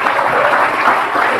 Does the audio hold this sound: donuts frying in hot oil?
no